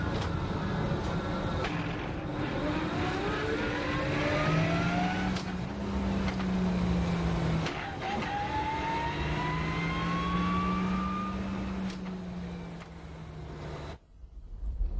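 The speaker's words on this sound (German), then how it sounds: "Das fertige Getriebe auf dem Prüfstand." A finished Wartburg car gearbox running on a factory test bench at the Eisenach plant, a steady mechanical whine rising and falling in pitch through repeated cycles, loud and continuous before cutting off near the end.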